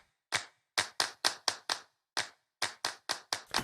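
Sampled handclaps with reverb added, played in Ableton Live: about a dozen sharp, separate claps in an uneven loop-like rhythm, each with a short reverb tail, loud and alone with no talking.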